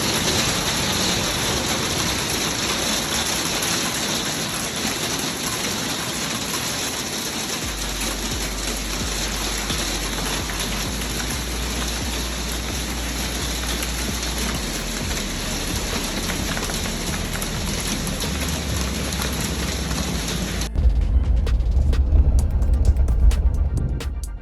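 Heavy rainstorm pouring down as a dense, steady hiss of rain on surfaces, loud and constant throughout, with a deep low rumble joining partway and a sharper, rougher burst of wind or water near the end.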